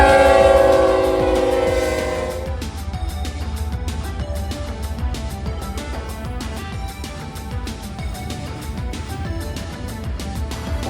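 An eastbound BNSF manifest freight train approaches on the Emporia Sub, opening with a long, loud horn blast that fades into a steady rolling rumble of passing cars.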